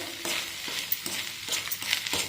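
Leftover rice with salt and soy sauce being stirred in a hot pan, a spatula scraping in a quick repeated rhythm over a soft sizzle, close and clear with no voices.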